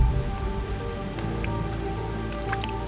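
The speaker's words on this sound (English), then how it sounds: "Rain." Heavy rain falling in a Singapore jungle during a storm, a steady dense wash of drops with scattered sharper patters and drips on leaves, continuous and fairly close throughout.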